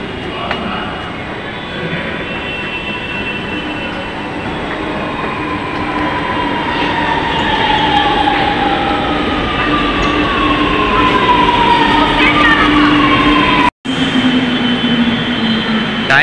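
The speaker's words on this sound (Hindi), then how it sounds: "जो मेट्रो जा रही है ये मुंशी पुलिया की साइड जा रही है" A Lucknow Metro train rumbles past continuously toward Munshi Puliya, with droning motor tones sliding in pitch and a loud, steady roar of wheels on rails.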